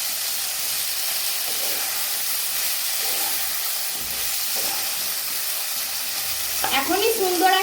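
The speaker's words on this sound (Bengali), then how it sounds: "আমড়াটা আমি কিছুক্ষণ ভেজে নেব ঘি দিয়ে।" Hog plums (amra) fry in ghee in a pan with a steady, hissing sizzle, stirred throughout, and a sharper scrape and clatter of the spatula near the end; no one talks.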